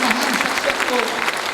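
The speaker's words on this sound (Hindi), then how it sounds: "एक जोरदार ताली आप उनके लिए बजाइए" Brief burst of audience applause at a success day event in Patna, many hands clapping at once while a voice carries over the clapping.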